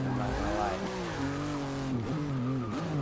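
A slammed VW van in the racing game Forza Motorsport 6 drifts with tires squealing in wavering, pitch-sliding whines over a steady engine drone, while someone talks throughout.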